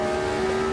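Classic Formula One car engine in the Automobilista 2 racing game, a steady high-pitched whine held at high revs, loud and close with no talking.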